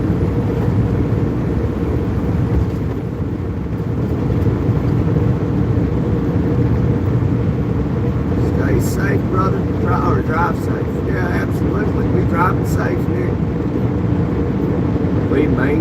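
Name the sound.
truck driving on the road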